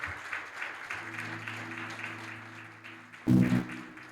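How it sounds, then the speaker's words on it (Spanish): Church congregation applauding during a worship service, a diffuse wash of steady clapping under a sustained organ or keyboard chord, swelling into a louder burst near the end. "Dale un aplauso al Señor."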